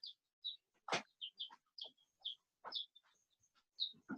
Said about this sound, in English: So we are fostering for 2 weeks 4 baby chickens.